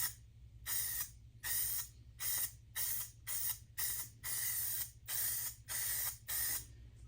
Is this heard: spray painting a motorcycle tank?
yes